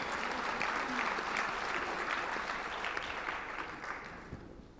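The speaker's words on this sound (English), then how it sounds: "Can we have a big round of applause, please?" Conference audience applauding steadily for nearly five seconds, a dense, even clatter of many hands that slowly thins toward the end, with no talk over it.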